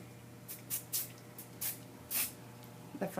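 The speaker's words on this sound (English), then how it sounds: "spray a little hairspray in it" Short hissing bursts of hairspray sprayed onto a child's teased hair while styling it, several quick puffs in a row at close range, faint and separated by brief pauses.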